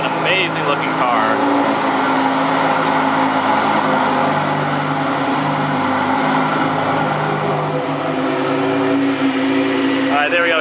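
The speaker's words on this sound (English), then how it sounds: "It toned down just a little bit after the cold start" A Lamborghini Huracan EVO V10 idles just after a cold start, a steady, close mechanical drone with an even tone, and a person talks briefly near the start and end.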